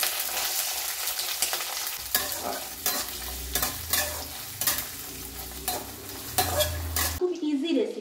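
Curry leaves, ginger and garlic sizzle and fry in a hot pan, with a steady crackling hiss broken by repeated louder bursts as the pan is stirred, running throughout before ending abruptly.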